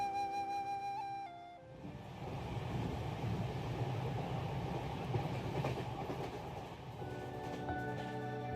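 A train rumbles past with a steady rolling clatter of wheels on rail, loud and close, after a musical tone fades out. Nobody speaks.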